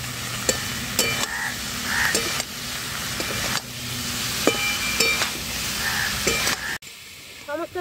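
Mixed vegetables are sautéed with spices in a pan for Bengali sabudana khichuri. A constant frying sizzle sits under repeated scraping stirs and light metallic clinks of the spatula, then quiets abruptly near the end.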